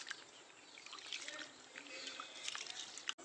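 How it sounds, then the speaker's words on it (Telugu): Basmati rice being washed by hand in a bowl of water, with soft sloshing and trickling throughout, fairly faint and steady, with a brief louder splash near the end. "అయితే దీంట్లో వాటర్ వేసుకొని బాగా వాష్ చేసుకోవాలి."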